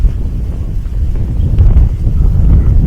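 Steady wind buffeting the microphone outdoors at an aqua fish farm with boating, a low continuous rumble that swells slightly toward the end, with no voices.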